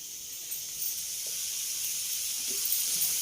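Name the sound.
cucumber pieces lightly frying in a pan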